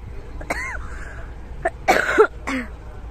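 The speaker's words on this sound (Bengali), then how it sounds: "ঠান্ডা লেগে চলে, কাশিও হচ্ছে।" A woman with a cold coughs several times outdoors on a quiet morning, short harsh bursts spaced apart, close and fairly clear against faint background.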